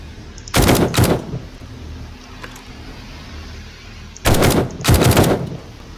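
Gunfire in the survival video game 7 Days to Die on horde night: two separate loud bursts of rapid automatic shots, the first near the start and the second toward the end, with a quiet gap between them.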